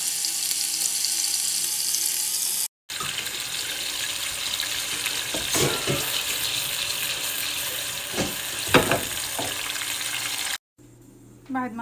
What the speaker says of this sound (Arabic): بعد ما قليت اللحم